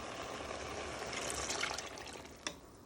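Sweet chilli sauce pours steadily into a pan with a soft, continuous splashing trickle, close by and quiet, ending with a small drip.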